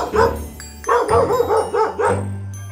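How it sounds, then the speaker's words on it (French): A dog barks in a quick series of close, loud barks and yips, several in a row within a few seconds, indoors. "Oh, bon chien. Doucement."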